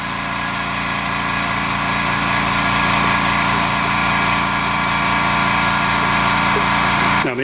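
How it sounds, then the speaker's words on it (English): An air compressor runs loudly and continuously with a steady mechanical drone, then cuts out abruptly near the end as it switches off on its own. "Now the air compressor is going to turn off automatically, just like it did right there, once it's at full pressure."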